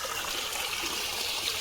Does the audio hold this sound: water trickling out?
yes